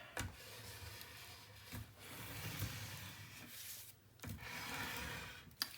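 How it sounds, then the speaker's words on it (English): Paper pieces for a mini album are burnished with a tool, making steady dry rubbing and scraping strokes with short pauses between passes, quiet and close. "let's give it a good burnish"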